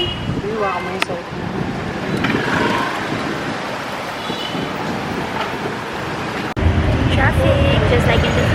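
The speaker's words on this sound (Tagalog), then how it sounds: "Traffic, just like in the Philippines." Street traffic in Hanoi, Vietnam: a steady roar of motorbikes and vehicles close by, with scattered horn beeps and a sudden louder surge near the end, under occasional voices.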